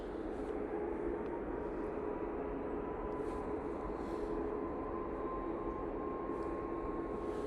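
Jet2 airliner with half decals departing Manchester Airport, a steady broadband jet roar with a faint whine, constant and moderately distant throughout.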